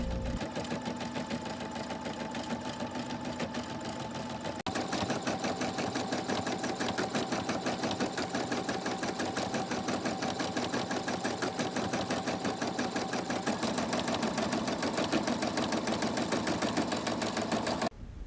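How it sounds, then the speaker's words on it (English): An embroidery machine stitching merch, a fast, steady mechanical chatter of needle strokes with a faint motor whine underneath, shifting slightly in tone partway through and running continuously at close range without talk. "the sound of the embroidery is actually really soothing and like ASMR-y"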